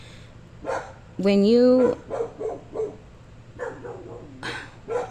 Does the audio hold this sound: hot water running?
no